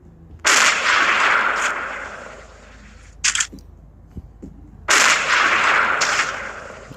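Sniper rifle shots in the hunting game Hunting Sniper, two loud booming reports with long echoing tails, separated by a brief metallic bolt-cycling clatter and a few soft clicks.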